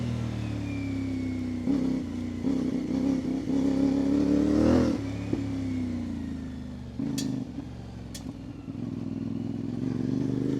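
A CFMOTO 450 adventure motorcycle on Mitas E07 tyres hums steadily while riding, its engine note rising and falling through throttle changes, close and continuous with a couple of sharp clicks near the end.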